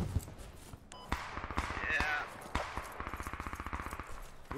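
Rifle fire from friendly troops in the tactical shooter Squad, with a few sharp shots early on and then a steady run of rapid, evenly spaced shots toward the end, mid-distance amid battle noise.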